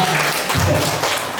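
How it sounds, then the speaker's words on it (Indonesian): Audience of parents applauding at a school gathering, a dense burst of many hands clapping, close and loud, with a voice mixed in underneath. "Beri tepuk tangan dulu Bapak Ibu, biar semangat."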